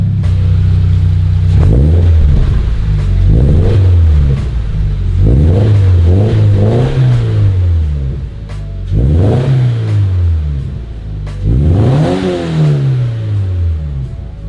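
A Subaru BRZ with an Invidia N1 exhaust revs repeatedly, loud rising and falling bursts of engine roar over a rumbling idle, with no speech.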